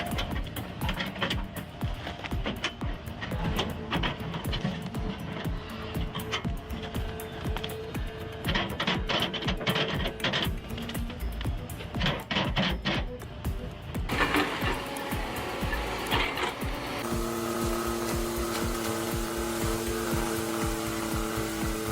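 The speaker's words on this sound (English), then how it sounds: "this high-speed stump grinder goes to war with solid hardwood" A high-speed stump grinder with a yellow wheel cutter chews into a solid hardwood stump, a loud sustained mechanical roar with gritty grinding pulses, shifting to a steadier droning engine tone near the end.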